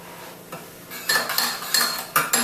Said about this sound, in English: we're just going to scrape the last of the raspberry puree off the bottom